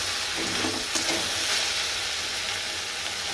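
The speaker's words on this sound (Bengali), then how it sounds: "এখানে পেঁয়াজ কাঁচা লঙ্কা দিয়ে আলু ভেন্ডি ভাজাটা হচ্ছে" Potato and okra frying with onion and green chilli in a pan, a loud, steady, close sizzle with light stirring noises and no talk.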